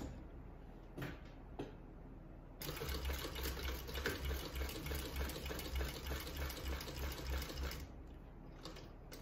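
A sewing machine runs steadily for several seconds, stitching the ends of a strap, its rapid even needle rhythm loud and close after a few quiet handling knocks, then stopping near the end.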